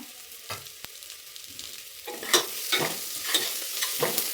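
Ginger and garlic fry in ghee for a wheat pongal, with a quiet steady sizzle broken by several soft scraping stirs of the spoon in the pan.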